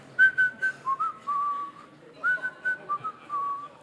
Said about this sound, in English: There, that's the whistle.